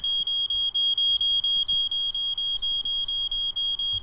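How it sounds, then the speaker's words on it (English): Smoke detector alarm in the My Summer Car video game, set off by a sauna left on, emitting a steady stream of rapid, loud, high-pitched beeps that repeat evenly throughout. "it did set off the smoke detector"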